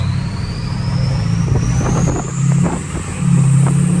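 A deleted, studded 6.0 diesel pickup truck accelerates from inside the cab, its engine droning low and rising in pitch with a building whine, steady and close.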